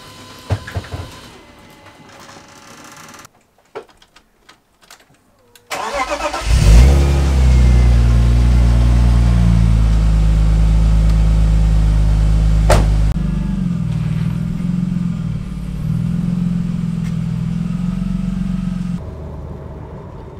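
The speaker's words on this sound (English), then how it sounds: "So we are just carefully warming up the car." A BMW E36 323i engine with a swapped M50 intake manifold starts after a few quiet clicks, then idles loudly and steadily while warming up, with the revs rising and dipping a couple of times before cutting off near the end.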